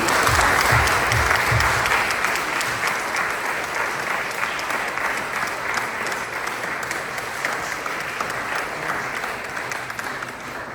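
A large crowd at a supporters' reception applauds warmly in a loud, continuous wash of clapping that holds for about ten seconds and fades slightly toward the end.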